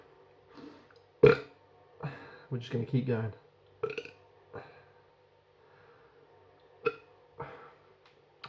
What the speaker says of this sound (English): If I burp, sign of a good beer.